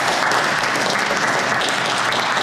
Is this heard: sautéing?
no